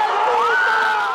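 A crowd of election supporters on an election night in Colombia, a loud wash of cheering voices with one rising shout standing out near the front.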